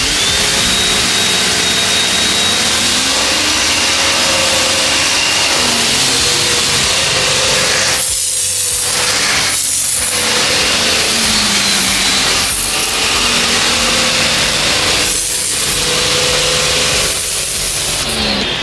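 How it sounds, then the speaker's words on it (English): An electric pressure washer runs steadily while soft washing the side of a house with a round turbo nozzle, a loud continuous motor drone with pitch shifts and brief changes as the spray varies. "I'm going to step on the button here to start this one, and you can hear it start up"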